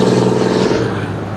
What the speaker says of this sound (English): Dang, that truck was loud for no reason.